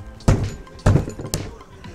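Three sharp, heavy knocks, like hard blows prying open a metal engine cover during cylinder head removal on an RE 205 engine, spaced unevenly, close and loud, with faint rattling after each.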